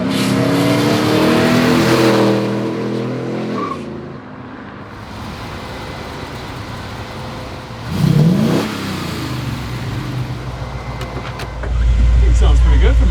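A 1957 Chevy engine running, heard from outside as a steady rumble that rises in a couple of revving surges, with people talking over parts of it and the engine growing louder near the end.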